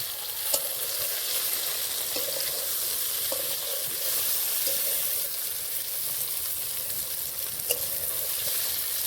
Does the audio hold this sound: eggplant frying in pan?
yes